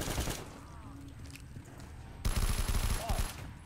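Rapid weapon gunfire in Black Ops 3 custom zombies on a White House map: a loud, dense burst of shots erupts midway and keeps rattling to the end after a quieter stretch of game ambience.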